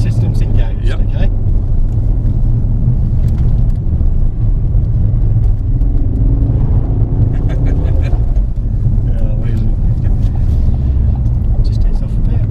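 A Ford Focus RS MK2 being driven, its engine giving a loud, continuous low rumble with road noise throughout, while people talk inside the car over it.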